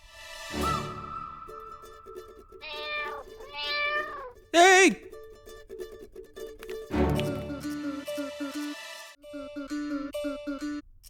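A cat in a Tamil television comedy meows repeatedly, with several drawn-out, rising and falling cries spaced between human speech, one sharper and louder than the rest.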